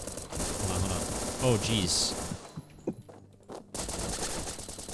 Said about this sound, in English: Mind shooting those zombies?